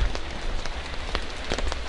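Rain falls steadily in Paris, a dense patter of drops hitting hard surfaces with scattered louder splashes close by, and no one speaks.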